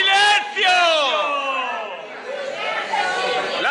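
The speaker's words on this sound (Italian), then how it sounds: "La folla dei risparmiatori rumoreggia" An angry crowd of savers protesting in Vicenza shouts and clamors in overlapping raised voices, loud and close, with several people yelling at once in a reverberant hall.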